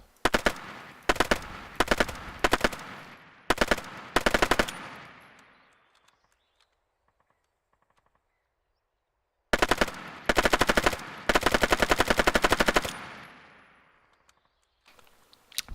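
PDW 2000 gunfire in a video game: loud, sharp bursts of rapid automatic shots in several clusters, then a quiet gap, then more sustained bursts of fire.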